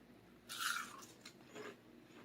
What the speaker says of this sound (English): I want y'all to see how crunchy the onion rings are.